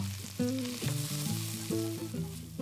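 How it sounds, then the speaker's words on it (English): Onions browning in a little oil in a pan, giving a steady close sizzle with soft stirring, under a tonal melodic layer that sounds like background music. "in the same pan and adding a little more oil, I put some onion, plenty of onion, and really brown it quite well"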